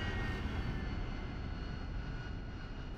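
Harrier jet landing in the DCS World flight simulator, a steady, loud engine roar holding evenly throughout with a broad rushing hiss and no talk.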